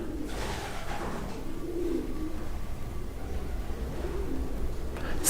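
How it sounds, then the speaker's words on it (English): Pigeons coo up in an abandoned building, soft repeated low calls drifting from above over a constant hollow background hiss, fairly distant and without speech. "It's difficult with the pigeons, because I know they're making a lot of noise up there."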